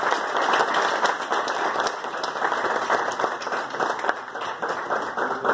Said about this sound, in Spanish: quiero recibirlos con un fuerte aplauso